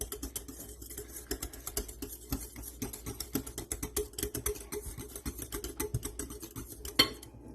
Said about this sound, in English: I'm just going to take my whisk and get it to smooth out a little bit